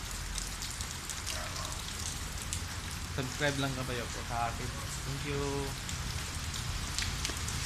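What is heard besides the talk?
rain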